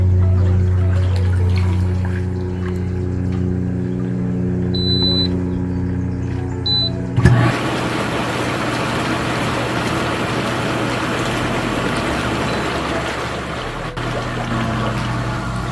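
Jets of a Bestway SaluSpa inflatable hot tub kick on with a sudden whoosh, turning a steady motor hum and brief beeps into loud, continuous bubbling and churning water.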